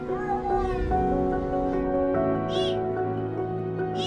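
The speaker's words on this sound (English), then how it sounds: "That's a cry of a little kitten that fell to the bottom of a 5-meter vertical pipe." Small kitten trapped at the bottom of a 5-meter vertical pipe, crying with repeated plaintive meows, close and resonant, with a hollow echoing quality from the pipe.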